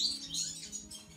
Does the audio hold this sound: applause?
no